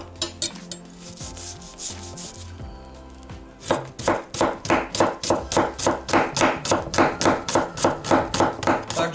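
A knife chops a small onion rapidly on a cutting board, a few scattered cuts first, then a fast steady rhythm of close, crisp strikes.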